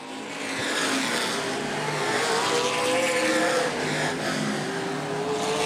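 ABC stock cars race in a 2012 A feature at Angola Motorsport Speedway, their engines roaring loudly and continuously as the pack passes, with a sustained, droning whine and no audible talk.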